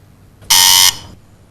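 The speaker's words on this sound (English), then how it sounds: "Next starter for both teams on the buzzer." A loud, steady electronic quiz show buzzer sounds once for about half a second in a television studio, alone against a quiet background.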